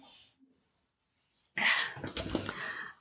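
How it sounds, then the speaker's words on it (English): Two puppies at a distillery make small whines and soft snuffling noises, then a louder burst of close excited yelping and whimpering. "Yeah, there are 2 puppies."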